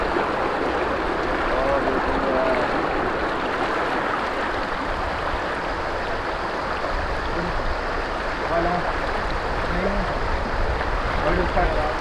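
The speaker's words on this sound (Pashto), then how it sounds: "ځکه چې اوبو را شور ډېر زیات دی دلته" Loud, steady rushing of river water fills the scene without pause, a broad continuous roar close by in the Buner hills, with faint voices now and then beneath it.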